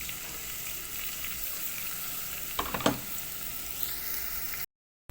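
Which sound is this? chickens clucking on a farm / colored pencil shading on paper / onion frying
onion frying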